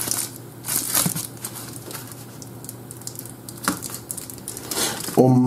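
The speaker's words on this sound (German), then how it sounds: "Bubble Wrap mit Metallbeschichtung." Close, irregular crinkling and crackling of metallic-coated bubble wrap being handled, in short bursts, with a brief voice at the end.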